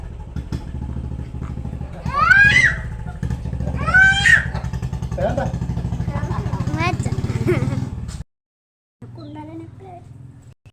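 A steady, rumbling motorcycle engine drones close by for most of the clip, with children's voices chattering over it, then cuts off briefly near the end.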